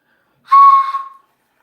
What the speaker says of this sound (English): Would you want me to teach you how to whistle with your hands?